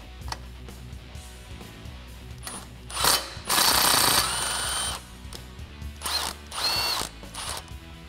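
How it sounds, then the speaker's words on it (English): A power tool with a 1/2 inch socket drives a self-tapping screw for a bump stop on a Jeep Wrangler JK lift kit, giving mechanical ratcheting whirs in several short loud bursts between quieter pauses. "we do need to run this self-tapping screw through to make sure that it threads properly when we install our bump stop"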